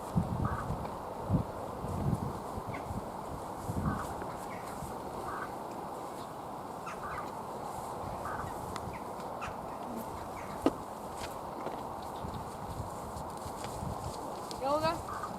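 Faint hooves clop irregularly as horses shift and move at a distance at a horse stud farm, with birds chirping in the background and a few louder knocks.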